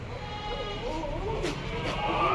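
A large goat at a livestock market gives a drawn-out, quavering bleat that swells near the end, set against background crowd murmur and scattered voices.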